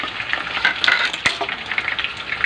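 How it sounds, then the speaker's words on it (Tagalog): Chicken pieces frying in hot oil for a second time, a dense close hiss with bubbling crackle, a single sharp clink of a utensil against the pan partway through, and no talking. "Palulutuin lang natin ng kaunti pa sa pangalawang pagkakaprito."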